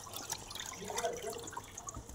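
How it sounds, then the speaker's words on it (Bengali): Tap water runs and splashes steadily in a sink while rohu fish pieces are washed, a brief soft gurgling stream with light drips close by. "মাছটা ধুয়ে পরিষ্কার করে নেবো"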